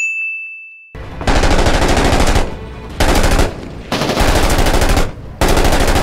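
Heavy automatic gunfire rattles in long, loud bursts with short pauses between them in a Middle East shooter video game, following a brief electronic tone at the start.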